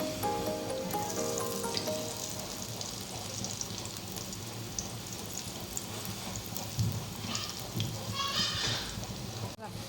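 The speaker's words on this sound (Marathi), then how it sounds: "हे बघा, छानपैकी फ्राय करून घेऊया। मध्यम आचेवर फ्राय करायचे त्या।" Kothimbir vadi, coriander fritters, fry in oil over medium heat with a steady, rain-like crackling sizzle that holds at an even level throughout, with a few brighter pops and spatters near the end.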